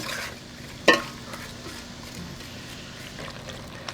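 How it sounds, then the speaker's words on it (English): A pot of pepper sauce cooks down with a faint, steady simmer, broken once early by a sharp clink of a utensil against the pot and a few softer scrapes. "Now I'm going to let this cook down for another 5 minutes."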